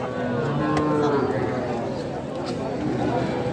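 Young heifers three to nine months old low and moo at a busy Aftabganj cattle market, their drawn-out calls blending with steady crowd chatter and people talking nearby.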